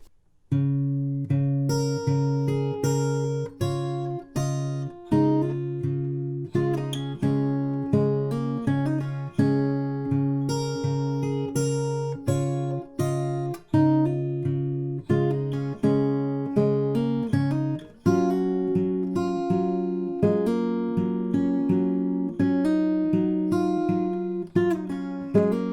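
The fingerpicked acoustic guitar outro of a song plays as a steady stream of plucked notes over ringing chords, clear and close, for about twenty-five seconds, with no voices.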